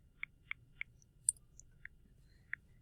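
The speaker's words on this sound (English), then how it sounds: "So I'm going to type into my calculator" Six or seven light plastic clicks sound close and quiet at irregular intervals as numbers are keyed into a handheld calculator.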